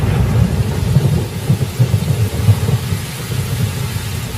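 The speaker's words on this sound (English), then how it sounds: "In Katavi, October brings the short rains." Rolling thunder rumbles low and steady through a storm in Katavi during October's short rains, with rain hissing continuously underneath and no voices.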